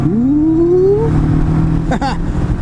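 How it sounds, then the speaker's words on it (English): A Macbor XR5 Montana 500cc motorcycle revs its exhaust, the engine note climbing smoothly then holding at a steady drone before a short second blip, loud and close. "Listen to this exhaust."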